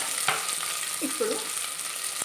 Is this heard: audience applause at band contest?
no